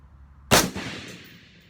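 A single AR-15 rifle shot fired at a gun club range, one sharp crack followed by a short decaying echo, heard alone in otherwise quiet surroundings.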